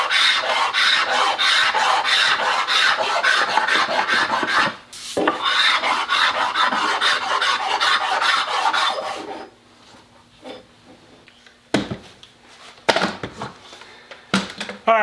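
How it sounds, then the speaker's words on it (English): A hand scraper rasps steadily across a wooden body blank for a one-off Telecaster-style guitar, with continuous strokes for about nine seconds, then scattered short scrapes and pauses. "all I'm going to do is scrape this one because I don't see a lot of tool marks on this"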